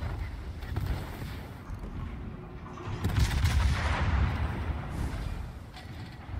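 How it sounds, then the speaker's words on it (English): Naval gunfire in World of Warships, with deep rumbling booms of a warship's guns swelling at mid-clip over a steady low roar of battle. "Yeah, I can definitely win this gunfight."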